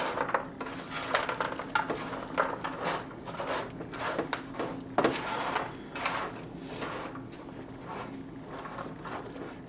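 Caramel-coated Chex mix stirred in a pan, giving a steady run of dry rustling scrapes and light clinks of cereal pieces against metal, close and moderately loud throughout, with no talking.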